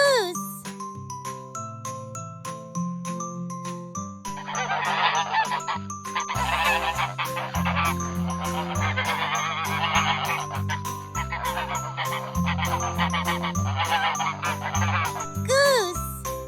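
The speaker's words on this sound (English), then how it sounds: "Goose." A farm goose honks loudly and repeatedly in clear bursts over light, jingly children's music.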